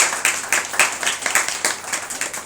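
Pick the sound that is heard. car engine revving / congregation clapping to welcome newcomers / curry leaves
congregation clapping to welcome newcomers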